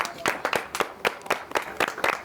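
An audience claps in a quick, even rhythm of about nine sharp claps, fairly close and moderately loud.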